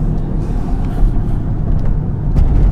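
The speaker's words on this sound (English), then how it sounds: "This crazy lady's driving us to the park." Inside a moving car on the way to a park, a loud, steady low rumble of engine and road noise fills the whole stretch with no voices.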